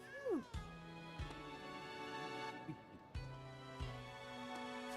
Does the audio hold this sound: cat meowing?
yes